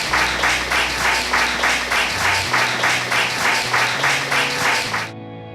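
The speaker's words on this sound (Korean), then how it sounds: "큰 박수로 격려해 주시기 바랍니다." Audience applause fills the hall at an academic award ceremony, dense steady clapping from a crowd that swells evenly and then stops sharply, with a low background hum continuing after.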